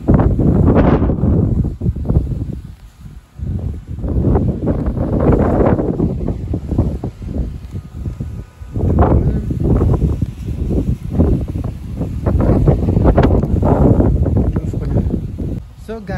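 A strong, cold wind blusters into the microphone at a beach resort in Lanzarote in the evening. Heavy rumbling gusts rise and fall, with only brief lulls between them.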